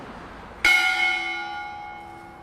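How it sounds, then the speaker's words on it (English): One sharp strike of a memorial bell at a 9/11 remembrance ceremony, ringing out clearly with a bright attack and then a long, gradually decaying tone. "the bell to remember those killed in the attacks on New York City"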